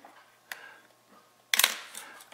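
Two crisp mechanical clicks from the all-mechanical shutter of an Asahi Pentax K1000 film SLR, a small snap first and then a louder, sharper release with a brief metallic ring.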